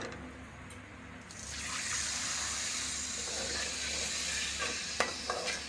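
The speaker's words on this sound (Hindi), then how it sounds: "अब मसाले को भूनने के लिए इसमें पानी डाल लेंगे थोड़ा सा।" A little water goes into spices frying in a pan for Pakistani beef kofta, turmeric, cumin and coriander powder, and sets off a loud, steady sizzle with faint stirring clicks near the end.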